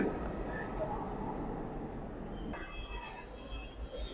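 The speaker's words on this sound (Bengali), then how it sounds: "আমরা দেখতে পাচ্ছি একটা মেট্রো রেল এই মাত্র এসে চলে গেল" A Dhaka metro rail train rumbles through Motijheel station, a steady loud roll of wheels with a sharp clank midway and some faint squeal as it runs past.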